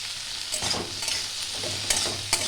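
Drumstick (moringa) pieces fry in a pan with oil, salt and turmeric, giving a steady close sizzle with a few louder stirring scrapes. No one speaks.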